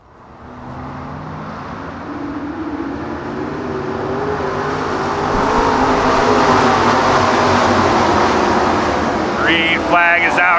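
Race cars on a dirt speedway at Lernerville Speedway, engines swelling into a loud, sustained roar as the pack approaches and passes, with a brief announcer's voice near the end.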